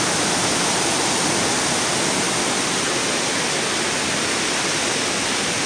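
Roaring waterfall and class 5/6 river rapids heard from just above the falls, a dense, loud, steady wash of broadband water noise that never lets up.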